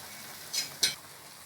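A spoon stirs ground coconut paste into simmering snake gourd kootu in a pot, two quick close scrapes against the vessel over a quiet background.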